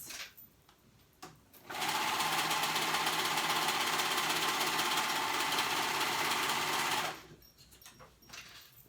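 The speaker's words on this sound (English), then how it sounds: "I know we're gonna go ahead and sew this raw edges on the sleeves" A sewing machine stitching the raw sleeve edges of a poly top, whirring steadily and loudly for about five seconds after a few brief starts, then stopping into quiet handling sounds.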